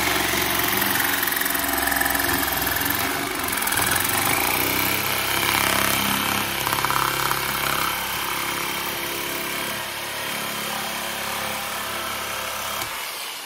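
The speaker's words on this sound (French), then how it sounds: "je vais vous montrer ce qui se passe quand vous coupez avec la scie sauteuse." An electric jigsaw cuts through a scrap offcut with a steady, loud buzzing drone that runs unbroken for about thirteen seconds, then cuts off abruptly at the end, with no talking.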